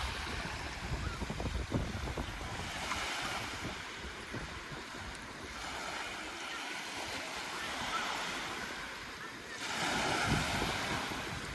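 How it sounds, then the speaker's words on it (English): Ocean surf rolls onto a beach at Charmouth, Dorset, waves swelling and washing in with a broad hiss, light wind buffeting the microphone, a distant voice faintly underneath. "Listen to these waves."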